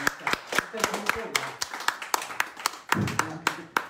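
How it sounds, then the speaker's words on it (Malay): A sparse audience claps at a company gathering, individual sharp claps ringing out in an uneven rhythm rather than full applause, with a voice speaking among them. "Tepukan sikit."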